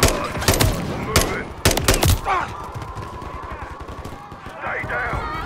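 Gunfire from the Call of Duty Modern Warfare 3 video game comes as several sharp, loud bursts near the start, followed by quieter shots further off. Someone talks over part of it.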